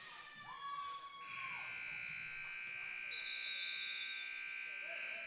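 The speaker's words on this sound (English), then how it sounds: "Just an inadvertent buzzer." A long, loud electronic buzzer blares continuously at a high school girls' basketball game, sounding over crowd noise in the gym.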